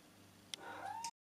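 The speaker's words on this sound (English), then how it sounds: "there's a cat waiting for me in the sink" Cat sitting in a kitchen sink giving a single rising meow, faint and close, with a couple of light clicks before the sound cuts off abruptly.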